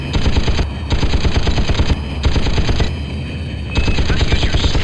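Tank cannon and machine-gun fire at a target range in Battlezone 98 Redux: loud, rapid, continuous bursts of shots in several long stretches, broken by brief pauses, close and dominant over engine hum.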